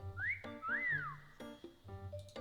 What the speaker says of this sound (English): Was that a wolf whistle?